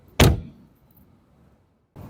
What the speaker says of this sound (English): I like the sound too of the glass door once you close it.